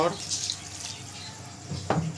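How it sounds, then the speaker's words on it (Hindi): About a glass of water poured into a cooking pot of Chinese chicken with vegetables and peas, a short splashing, running pour over faint kitchen background noise. "इसके अंदर हम ऐड करेंगे तकरीबन 1 गिलास पानी"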